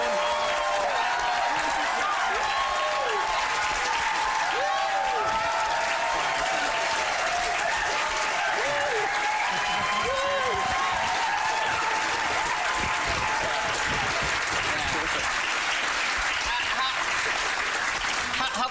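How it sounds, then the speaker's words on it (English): Studio audience on a TV talk show applauding and cheering as comedy troupe guests are welcomed, a loud, dense, continuous roar of clapping with crowd voices mixed in throughout. "On the teleprompter, it said fake applause."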